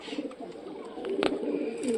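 Punjabi bloodline pigeons coo in soft, warbling phrases near at hand, with a few light clicks and one sharper tap amid the calls.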